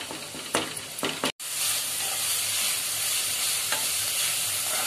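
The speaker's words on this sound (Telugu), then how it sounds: "ఆనియన్స్ బాగా పచ్చివాసన పోయి కొంచెం బ్రౌన్ కలర్ లో వచ్చేంత వరకు వేగనిచ్చుకోవాలండి" Onions frying in a pan for a homemade bread sandwich filling give off a loud, continuous sizzle, with a spoon scraping and stirring through it. Brief clacks come early on, and the hiss surges back strongly after a momentary drop.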